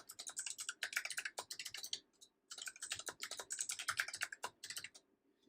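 Bursts of fast keystrokes on a computer keyboard while entering a root password during a Rocky Linux 8 install, close and clear, pausing briefly midway before a second run of typing, with no talking.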